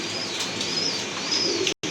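Damachin pigeons coo softly against a constant background hiss, with a brief flutter and a short drop into silence near the end.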